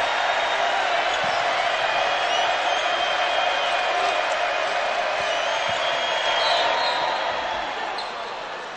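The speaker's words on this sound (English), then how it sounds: "Crowd's into it now." A college basketball crowd at a Vanderbilt versus Baylor game cheers loudly and steadily through a Baylor scoring run, with a sustained roar of whoops, occasional ball bounces and court noise underneath that fades slightly at the end.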